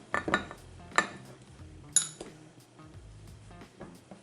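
A spoon stirs and scrapes light brown sugar and cinnamon in a small bowl, giving three sharp clinks against the dish followed by softer scraping and tapping, close and alone.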